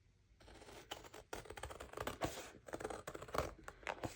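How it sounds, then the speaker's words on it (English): Paper is trimmed to size for a soft journal cover, giving a quiet run of crisp, scratchy cutting bursts close by, with no voices. "Not enough to fold over, so I'm just going to trim it"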